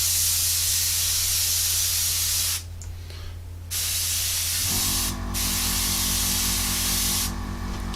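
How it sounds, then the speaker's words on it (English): An airbrush sprays paint in a steady, loud broadband hiss that cuts out for about a second, resumes, and shifts to a slightly different tone partway through, with brief gaps as the trigger is released and pressed again. "we want to know where the airbrush actually shoots"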